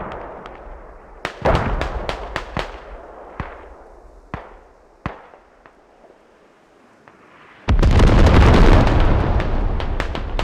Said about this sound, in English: Artillery is striking now.